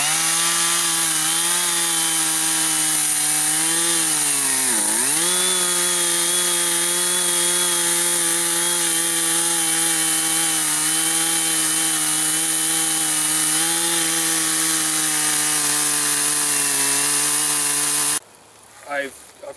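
Timber being cut by a chainsaw for the cross piece of a sawbuck, one loud steady engine drone with a brief dip mid-cut, running almost continuously before stopping abruptly near the end.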